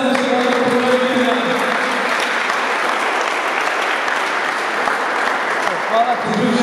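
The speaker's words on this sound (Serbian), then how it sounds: "Ajde mi jedan aplauz za naše unije kruže." Sustained audience applause fills an arm wrestling tournament hall in Bogatić, steady dense clapping from a crowd at even loudness throughout, with faint voices mixed in.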